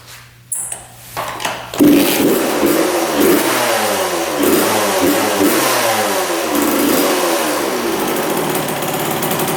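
A two-stroke dirt bike engine catches after a brief start attempt, then revs up loudly and repeatedly, its rising and falling pitch sweeping close by with no talk over it.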